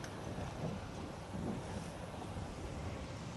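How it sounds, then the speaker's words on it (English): Wind on the water during a Melges MC sailboat race, a steady broadband rush of wind over the microphone mixed with wave and hull wash, constant and moderately loud, with no talk. "Wind has lightened up a little bit."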